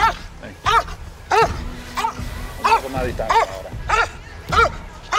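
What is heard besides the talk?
police K9 dog barking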